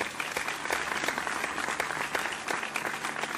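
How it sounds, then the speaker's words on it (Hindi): Enthusiastic audience applause at a live ghazal concert at Haveli Barood, with dense, steady clapping from a crowd sustained evenly throughout. "मैं चाहूँगा कि जोरदार ताली उनके लिए बजाई जाए।"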